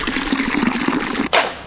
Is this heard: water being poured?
yes